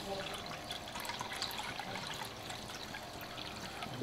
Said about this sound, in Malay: Okey, kita masukkan air dulu.